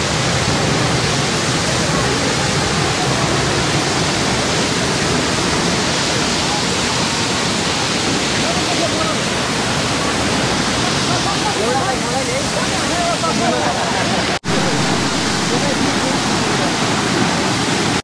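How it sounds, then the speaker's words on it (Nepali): A large waterfall beside a hiking trail in the Shivapuri hills roars loud and close, a dense continuous rush of falling water that fills the whole stretch with only a momentary break near the end. "यहाँनिर पनि एउटा खत्रै ठुलै झर्ना रहेछ"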